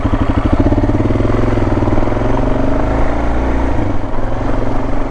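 An adventure motorcycle's engine runs steady and close on gravel trail riding, a loud throbbing mid-pitched drone that holds level throughout and eases slightly toward the end.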